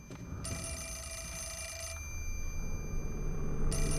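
A telephone rings in the Wii horror game Project Zero: Mask of the Lunar Eclipse, its steady electronic bell trilling in two bursts over a low ambient drone, loud and close.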